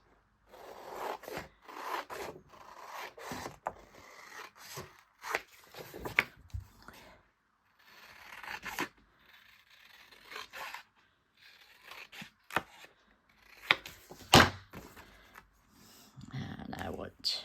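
Scissors snip through red paper while a pocket is made for a journaling page, giving irregular short crisp cuts and rustles close by, with a person talking between them.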